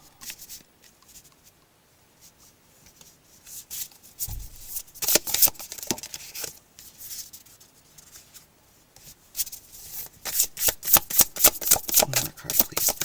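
Tarot cards being shuffled and handled close up, giving crisp riffling and rubbing bursts that start sparse and grow denser and louder toward the end.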